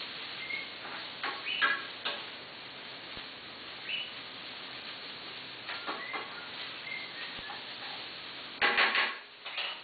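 Ingredients for Thai pasta with rice noodles and tofu are stirred in a pot, with scraping, clinking utensil strokes in irregular bursts and a louder scrape near the end.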